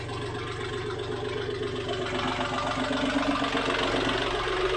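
A LOVOL TE 244 tractor engine runs after an oil change, a close, steady diesel idle with a rhythmic knocking chug.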